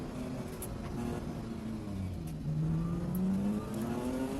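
Race cars in a Clubmans race rev and accelerate with a continuous engine drone that rises in pitch and grows louder toward the end. The sound is steady and somewhat distant, with no voices.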